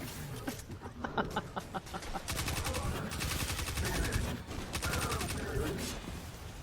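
Rapid bursts of Arc submachine gun fire from the 7th Seraph VY7 in Destiny 2, loud and near, with several sustained automatic strings and brief pauses between them.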